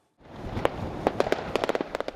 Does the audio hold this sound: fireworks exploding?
yes